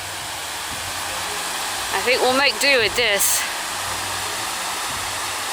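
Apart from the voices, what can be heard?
Grey Mare's Tail waterfall in Scotland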